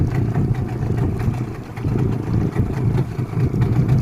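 A Huangjie 40 HP outboard motor runs on a boat during its first outing, giving a loud, close, continuous engine drone with a steady low rumble.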